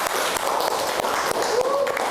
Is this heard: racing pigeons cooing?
no